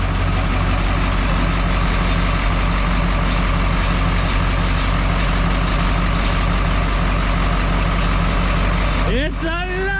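A repowered engine on an M&W Super 80 tractor runs at a steady, loud, close rumble throughout, a constant droning idle with a brief rising whine near the end.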